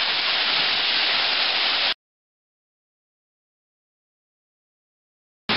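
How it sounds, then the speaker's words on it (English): A roadside waterfall in Maui, Hawaii, gives a steady rushing hiss for about two seconds, then cuts to silence before returning briefly at the very end. "Another waterfall in Maui that we saw along the side of the road."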